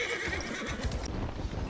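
Horse in the game Battlefield 1 neighs briefly amid busy game noise and hoof clatter, fairly loud against a constant background din.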